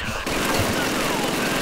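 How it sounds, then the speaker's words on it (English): Machine gun fire in the video game Call of Duty 2 rattles out as a loud, rapid, sustained burst of shots layered with booming gunfire, starting abruptly after a brief lead-in. "Still that guy with the machine gun."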